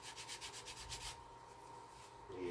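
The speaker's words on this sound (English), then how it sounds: "more sanding." Rhythmic sanding strokes rub across a wooden lifeboat model, a steady run of close back-and-forth scrapes for about a second before the strokes stop and a low hum carries on alone.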